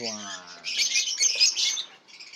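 Pet birds kept in an aviary chirp and squawk close by in a dense bright chatter, with a short voice heard at the very start.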